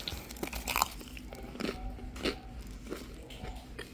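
Crisp, golden focaccia crust crunches as it is bitten and broken, several sharp close-up crunches spaced over a few seconds in an otherwise quiet room.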